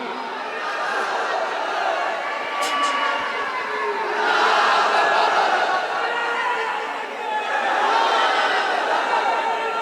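A large crowd at a religious jalsa gathering in Mirzapur chants back in response to a Nara-e-Takbir call, a loud, sustained mass of voices that swells in waves.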